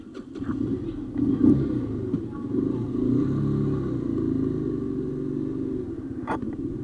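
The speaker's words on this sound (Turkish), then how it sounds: "Evet çalıştıralım motoru." A motorcycle engine is started on a cold night and settles into a steady, low, rumbling idle close by, with a couple of faint clicks near the start and end.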